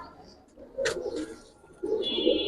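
Pigeons, coloured and Giribaz types, coo in low murmuring bursts nearby, with a short higher chirp and some faint background noise between the calls.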